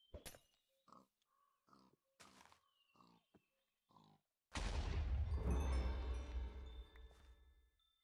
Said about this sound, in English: Got a pig there.